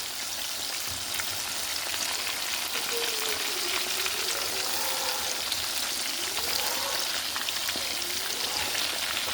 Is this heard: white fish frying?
yes